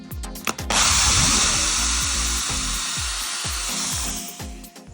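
A power drill bores holes through a clamped perspex sheet into a wooden bench base for a Toyota Alphard van conversion, with a loud sustained whine broken by several short bursts and stops, close to the mic, no talking.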